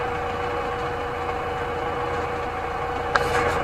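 A JCB 3DX Eco Xpert backhoe loader idles at a steady, even rumble on a pipeline job site, close and constant, with a brief clatter near the end.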